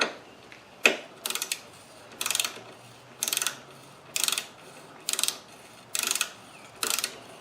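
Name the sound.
tightening bolts with a torque wrench on an adapter plate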